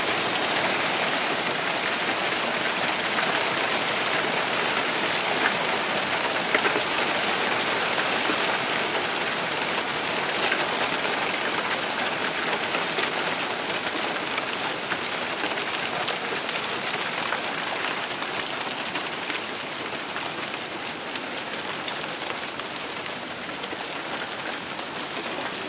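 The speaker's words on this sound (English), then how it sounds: "There's so much hail, it kind of looks like snow." Hail pelting a vegetable garden in Wisconsin, a dense, steady hiss of countless small impacts, loud and close, continuing unbroken with a slight easing near the end and no talking.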